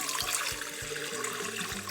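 Warm water poured for homemade bread dough, 375 ml going into a container in a steady close trickle with a bright, continuous splashing character and no talk.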